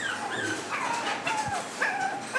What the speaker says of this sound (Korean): 출하된 어린 강아지들이 처음으로 가는 곳은 애견 경매장